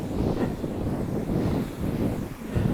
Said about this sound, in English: The rhythm of the waves, the wind in my hair or on my face